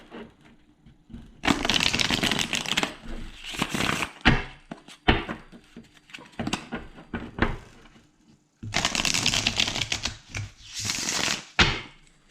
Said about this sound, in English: I'll give the cards a little shuffle here.